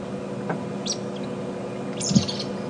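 Pair of pied kingfishers on a morning safari drive at Djuma Game Reserve, giving a few short, high chirping calls in bursts over steady bush ambience, fairly faint and at middle distance.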